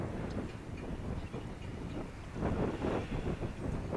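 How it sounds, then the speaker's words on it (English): Gusty outdoor wind rumbles across the microphone in a steady low roar, swelling louder toward the end, with no voices over it. "that wind is giving me a hard time"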